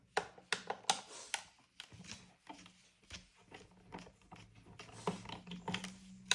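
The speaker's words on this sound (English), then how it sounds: "So we're going to take all 6 screws out" Small screws are backed out of an R2-D2 model's foot base, giving a quiet, close series of irregular clicks and taps from a screwdriver on plastic, with brief pauses between.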